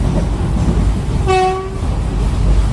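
An Intercity Express passenger train running between Tirupati and Tiruvannamalai on a single line rumbles loudly at a crossing, with a short, clear horn blast midway over the steady rail noise.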